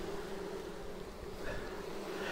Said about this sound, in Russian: А видно, пчела спокойная. Породы карника.